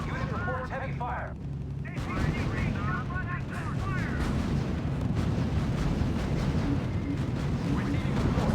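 Artillery and gunfire rumble and crack through a battle in the World War II strategy game R.U.S.E., with heavy repeated blasts and bursts continuing throughout while radio-style voices speak over the fighting.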